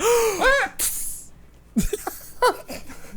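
A voice gives a sharp, close gasp to imitate an astonished scorpion during a podcast, with airy breathy bursts and a brief hiss. Quieter vocal noises and short exclamations follow after a near-silent gap.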